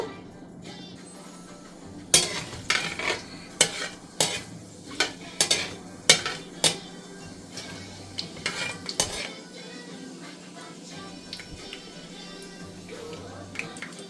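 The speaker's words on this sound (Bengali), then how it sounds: "আর দিয়ে দিব 3 ফালি দারচিনি, 2টা তেজপাতা। এখন এগুলো হালকা একটু ভেজে নিব।" Three pieces of cinnamon stick and two bay leaves fry lightly in a pan while a spatula knocks and scrapes against the metal in a quick run of sharp clinks over a faint, low sizzle.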